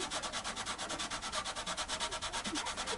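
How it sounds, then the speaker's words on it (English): Guitar frets on a Les Paul copy are rubbed with 400 grit sandpaper in quick, regular back-and-forth strokes, a soft close scratchy rasp repeating steadily with no talking. "the 400 grit sandpaper does it very slowly but very effectively"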